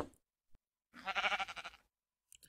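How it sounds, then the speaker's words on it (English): A sheep in the Minecraft video game gives a short, rippling, nasal bleat, heard once, clear but quiet. A faint click comes just before it. "I think that was that um sheep eating."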